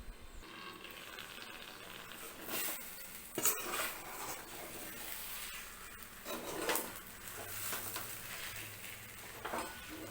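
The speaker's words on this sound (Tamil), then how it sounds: "நடுவில் இந்த மாதிரி கிளறி விடணும்" Rice upma being stirred in a pot on a low flame, a spoon scraping and clinking now and then against a steady quiet sizzle, with no talking.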